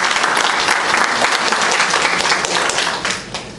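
An audience breaks into steady, loud clapping for a 64-year-old woman, the applause continuing evenly throughout before tapering slightly at the end.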